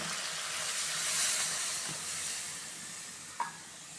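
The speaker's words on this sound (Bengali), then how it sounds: "এবার আমি সেদ্ধ করার জন্য দিব পরিমাণ মতো জল।" Water poured into a pan of frying cauliflower, potato and tomato sets off a steady, even hiss and sizzle of steam that fades slightly toward the end, with a single small clink near the close.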